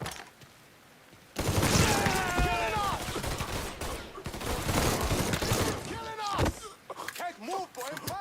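Gunfire rattles in the Mafia video game, rapid overlapping shots in a loud fusillade after a quiet opening, mixed with shouting voices and sharp cracks throughout.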